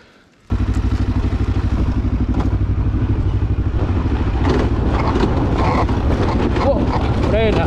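A KTM 500 EXC dirt bike climbs a hill on an off-road trail in first gear, its engine bursting in loud and close after a quiet start and holding a hard, steady roar with rising strain, while voices talk over it.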